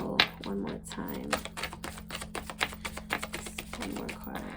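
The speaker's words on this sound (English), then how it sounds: "I'm feeling drawn to just shuffle one more time." Tarot cards are shuffled by hand at close range, giving a rapid run of crisp riffling taps and flicks that pulses irregularly under a steady low hum.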